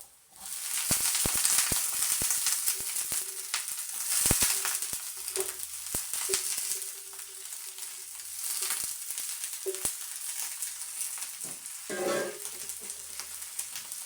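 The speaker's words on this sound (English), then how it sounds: "So we just fry them for 2 minutes" Green beans sautéing with garlic in a hot pan give a steady, fairly quiet sizzle and crackle, broken by occasional spatula taps and stirring scrapes, with no talk.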